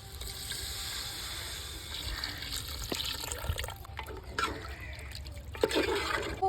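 Water poured from a vessel into soaking basmati rice for chicken dum biryani, a continuous splashing, gurgling flow up close with a few clinks, no talk.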